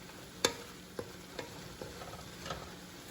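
Fried rice with onions, garlic, broccoli, carrots and corn is stirred in a hot pan, with sizzling underneath and a few distinct scrapes and knocks of the spatula, the first strongest, then fainter ones spread out.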